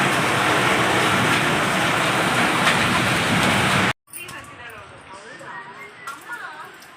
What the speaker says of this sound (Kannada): ನೋಡಿ ಎಷ್ಟೊಂದು ಮಳೆ ಬರ್ತಾ ಇದೆ.